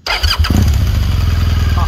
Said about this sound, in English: And starting engine.